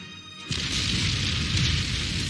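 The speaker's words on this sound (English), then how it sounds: "I'm going to use my capital ship as" Capital ship artillery fire in the Panzer Corps strategy game, a single deep boom that hits after a short quiet moment and rolls into a sustained rumbling roar for the remaining couple of seconds.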